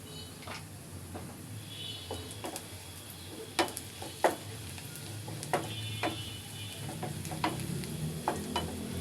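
Whole cumin seeds drop into onion and garlic already fried red in hot oil, giving a steady soft sizzle broken by sharp clicks and taps of stirring, with no voices.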